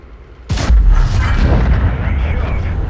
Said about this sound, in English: the artillery's killing me